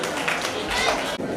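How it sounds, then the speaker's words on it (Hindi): Audience applause at the Thari Lohana Samaj annual function in Ahmedabad, a dense, steady wash of many hands clapping at close range that holds evenly for about a second and a half with no break. "सुहाना के लिए एक बार तालियां बजाइए।"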